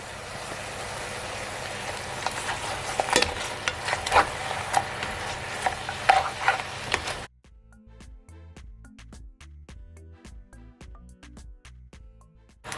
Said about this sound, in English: now that I add my oxtail, I'm just gonna stir it all in.